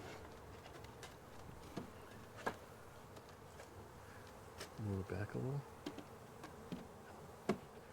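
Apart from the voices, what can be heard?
honey bees buzzing around the comb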